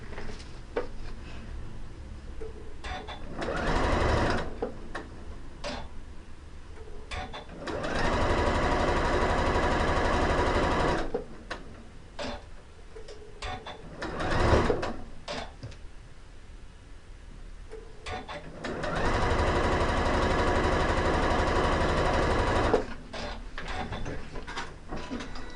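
A sewing machine stitches quilt block pieces in long loud runs of steady motor whir, broken by short quiet pauses between seams, with no talking.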